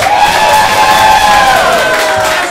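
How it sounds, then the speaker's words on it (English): A live comedy improv audience cheers and whoops loudly for a contest contestant, an energetic burst of crowd shouting and applause close and sustained for the whole moment. "Round of applause to see who wins."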